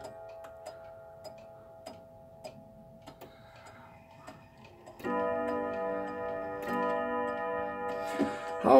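A clock moved ahead to 2 o'clock ticks steadily and softly, then begins chiming the hour in a loud, close, ringing melodic tune that sustains to the end.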